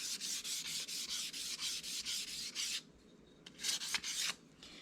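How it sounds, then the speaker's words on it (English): Sandpaper rubs rapidly back and forth over a surface being smoothed before painting, close and steady strokes in a quick rhythm, then a short pause and a few more strokes. "So I'm going to sand right here for a little bit."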